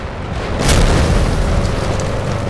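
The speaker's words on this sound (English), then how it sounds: "Somebody exploded on the background." A deep booming explosion in a Minecraft mech battle game, a sudden loud blast that rolls on as a sustained rumble.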